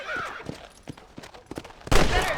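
Rifle shots ring out while hunting rabbits in Red Dead Redemption. Several sharp reports come at irregular intervals over background game sound, and a louder burst of noise arrives near the end.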